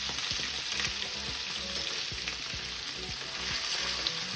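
A steak sizzles steadily in a hot pan just after being turned, a dense continuous crackle with scattered pops and a few utensil scrapes, close and fairly loud throughout.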